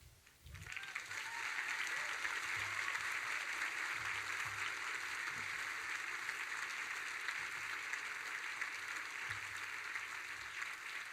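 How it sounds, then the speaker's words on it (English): Sustained applause from a ceremony audience honoring nursing graduates at a 2017 pinning ceremony, steady crowd clapping that swells in and holds for the full stretch, fairly distant and even. "Maybe we can have one more round of applause for our graduates"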